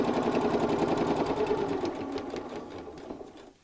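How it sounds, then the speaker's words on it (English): A sewing machine runs steadily as it stitches around the side of a fabric purse being fitted to a purse frame, a close, continuous whirring hum that slows and fades near the end. "carry on sewing around the second side until I meet that same point again"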